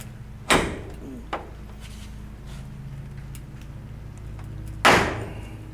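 VW Beetle door trim clips get pressed into place: two sharp, loud snapping thuds a few seconds apart with a small click between them, alone against a quiet background.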